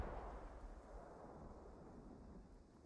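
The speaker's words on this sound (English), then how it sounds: "See these mortars land." Mortar rounds landing in the military shooter Squad, a continuous rumbling, blast-heavy low roar with distant booms blending into wind-like noise throughout, fairly steady and muffled.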